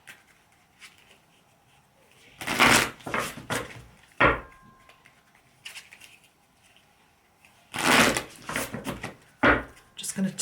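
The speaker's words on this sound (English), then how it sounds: "Let's give them a shuffle." Angels and Ancestors tarot cards being shuffled by hand, two bursts of riffling and slapping card sounds with softer handling noises and pauses between them, close and fairly quiet.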